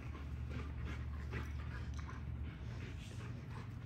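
An XL American Bully dog pants steadily and close, with rapid rhythmic breaths and a few faint whimpers, continuous throughout with no talking.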